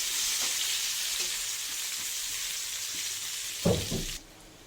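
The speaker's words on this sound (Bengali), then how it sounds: "পেঁয়াজটা একটু ভাজা ভাজা হয়ে গেলে দিয়ে দেবো" Onions fry in a pan for a simple fish recipe, a close, steady sizzle with a brief clatter of stirring near the end before the hiss suddenly drops away.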